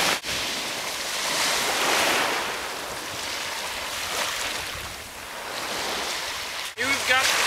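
Pacific Ocean surf at a Santa Cruz state beach, a steady broad wash of breaking waves with wind rumble on the microphone, continuous and fairly loud, ending with a brief burst of handling noise.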